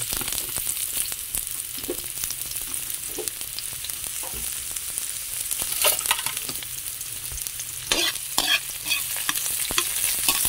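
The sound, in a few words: onion and ginger sautéing in a pan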